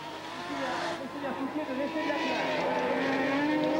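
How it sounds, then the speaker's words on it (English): Nissan ice race car in the 1999 Trophée Andros at Pas de la Casa, engine roaring and growing louder as it approaches, with a commentator talking over it. "Laurent Freinet leading in the Nissan. Here he comes towards us."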